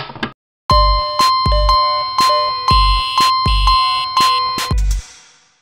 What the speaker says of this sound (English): I'm going to disconnect one of the sirens because I don't want to scare anyone